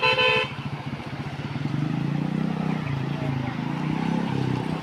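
A Bullet motorcycle and other vehicles drive through floodwater in a village, engines rumbling steadily and a horn sounding at the start, with people talking over the traffic.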